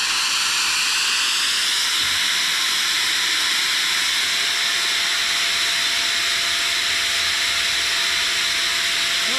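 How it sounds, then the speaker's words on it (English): An angle grinder runs steadily on off-grid power at a tiny house cabin build, a loud continuous high-pitched whine and hiss that holds alone for the whole stretch. "To start with the grinder, I can put it on where it runs by itself."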